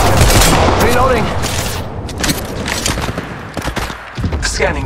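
Rapid gunfire in the mobile shooter Apex Legends Mobile: loud bursts of automatic shots with booming hits, dense at first and then in scattered volleys, with game voice lines over the top.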